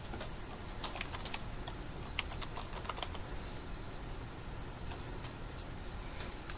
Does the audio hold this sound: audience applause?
no